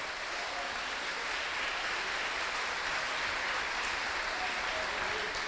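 A church congregation applauds, a dense, steady wash of many hands clapping at a distance, sustained and even throughout.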